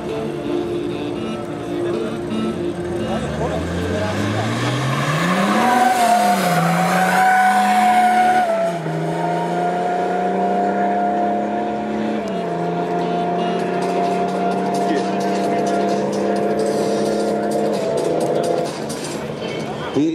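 Diesel street cars in a Street Diesel class drag racing final, engines roaring close and loud with rising pitch sweeps as they accelerate through gears, a crowd and announcer's voice running beneath.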